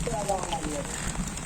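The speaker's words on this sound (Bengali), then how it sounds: "আবার আস্তে আস্তে বাড়তেছে বৃষ্টি।" Heavy, steady rain pours down on a monsoon day, a dense continuous hiss of drops on surfaces close by with no break, while a voice speaks faintly underneath.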